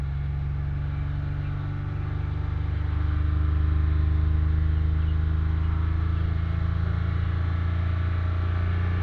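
The engine of a Lexus ES300 with a dirty MAF sensor hums steadily close by and rises slightly in pitch and loudness as it revs toward 3000 RPM, a smooth continuous drone.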